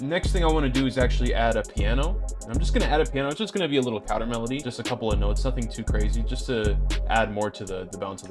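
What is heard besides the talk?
None of the usual background noises is heard.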